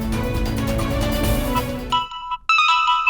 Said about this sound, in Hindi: कम से कम उसके फोन की घंटी तो बजती है?